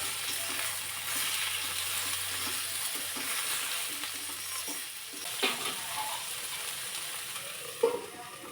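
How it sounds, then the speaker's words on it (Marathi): Okra frying in a pan over a gas flame, a soft, steady sizzle running throughout with a few faint clinks of stirring near the end. "पटकन भाजावी आणि लगेचच भेंडी सॉफ्ट व्हावी यासाठी अगदी थोडंसं मीठ घालायचं."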